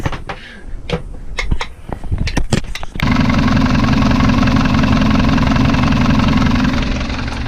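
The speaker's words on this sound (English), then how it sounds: "Always lovely when the engine starts." Clicks and a cranking starter give way to a sailboat's engine catching and settling into a loud, steady running drone.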